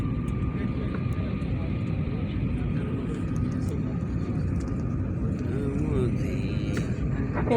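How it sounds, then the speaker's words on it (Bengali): Airliner cabin during descent toward Hazrat Shahjalal International Airport in Dhaka: a steady, moderate low roar of engines and airflow persists throughout, even and unchanging. "কিছুক্ষণ পরে আমাদের বিমান ল্যান্ড করবে।"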